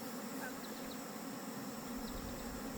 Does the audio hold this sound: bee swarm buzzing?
yes